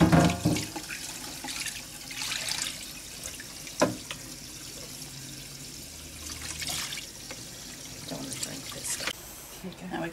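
Flea rinse poured over a dog during grooming at an animal hospital, an uneven splashing and trickling of liquid in bursts, close by, with a person talking over it.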